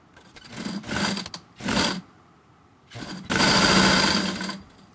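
A sewing machine stitches a folded edge on a fabric face mask in short whirring bursts, three brief runs and then a longer, louder steady run.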